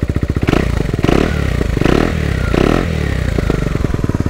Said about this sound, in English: let's give it a startup. The Akrapovic exhaust.